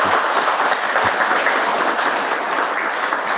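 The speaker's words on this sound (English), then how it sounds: "I've got clapping behind as well." Steady applause from a group of people fills the room just behind a nearby voice, continuous and moderately loud throughout.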